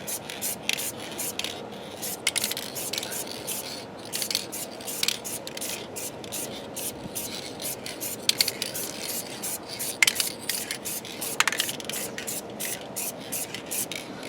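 Tire shine aerosol hisses onto a tire outdoors in repeated short spray bursts with brief gaps between them. The sound is close but fairly soft.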